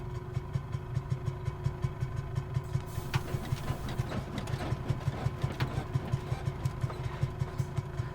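A Savoia Marchetti S.55 flying boat's engine in Microsoft Flight Simulator 2020 drones steadily at full throttle, a loud, even rumble with a rapid regular pulse that runs through the whole stretch with no talking.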